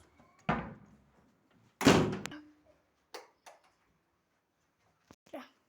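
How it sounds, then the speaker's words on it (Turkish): A door slams shut with a loud, sharp thunk, preceded by an earlier heavy knock and followed by a few quieter taps and bumps in an otherwise quiet room. "Kapı niye kapandı?"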